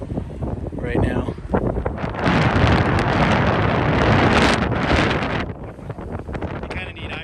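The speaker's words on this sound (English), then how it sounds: "It is incredibly windy" Strong wind in the Badlands buffets the microphone in loud roaring gusts, building to a sustained blast in the middle before easing slightly.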